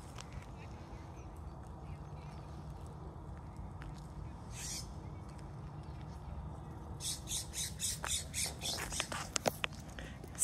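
Quiet outdoor ambience with a few faint calls early on, then a burst of quick, raspy bird chirps and squawks close by near the end.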